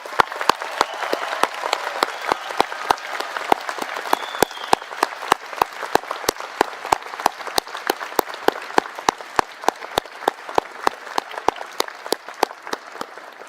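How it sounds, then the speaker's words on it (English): A large convocation audience applauds the graduating class of 2026 at Sheridan, steady sustained clapping from a big crowd with sharp individual claps standing out, continuing unbroken for the whole stretch. "Let's give them a round of applause."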